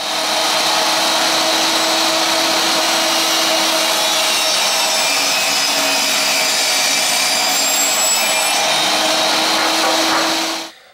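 A table saw rips a wooden board lengthwise to about 2.5 inches wide in one continuous, loud, rasping cut over a steady motor tone, ending abruptly as the cut finishes.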